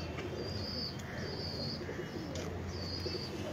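Pigeons on a rooftop coo in soft, repeated calls at a moderate distance, set against a steady bed of outdoor background noise with occasional chirps.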